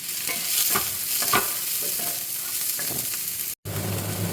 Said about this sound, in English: And then you add your onions to this. And saute the onion